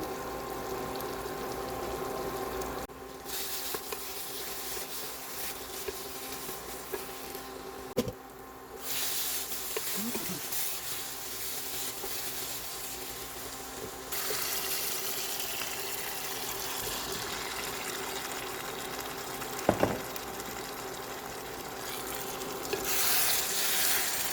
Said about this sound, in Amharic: ልጬ ያዘጋጀሁትን ድንች ውስጥ ጨምራለሁ።